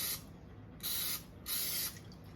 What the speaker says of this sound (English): You spray the pan and the knife at the same time